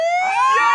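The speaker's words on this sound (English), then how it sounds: "The siren goes." A short rising siren wail, loud and close, sweeping upward in pitch for under a second.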